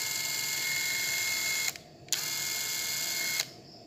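A JB801 electric screwdriver drives a screw with a steady, high-pitched motor whir, close and clear, that stops briefly, starts again and cuts off once more near the end.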